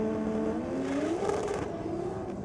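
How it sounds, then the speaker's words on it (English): A Ford Falcon ute does a burnout at a night drag strip, its engine roaring at high revs in one loud, continuous howl that rises and dips slightly as the tyres spin, heard alone without talk. "The Falcon Ute just blazing the tyres"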